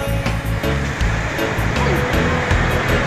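Sea waves along a seaside boulevard wash in steadily and loudly, a broad continuous surf roar with low rumbling swells and a few faint voices blended in.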